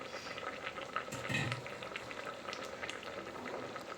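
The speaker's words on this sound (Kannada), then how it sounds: "ಚೆನ್ನಾಗಿ ಕುದಿ ಬರ್ತಾ ಇರುತ್ತಲ್ಲ ಈ ರೀತಿ" Drumstick sambar bubbling in a cooking pot, a steady low simmer of popping bubbles with a brief louder surge partway through, close and fairly quiet, with no voices.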